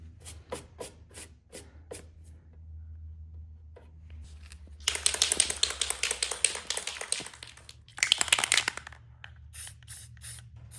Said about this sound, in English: so now we'll just clean the area with brake clean